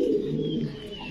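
A large opal-coloured Giant Homa pigeon gives a short, close, soft cooing call, with no talk over it.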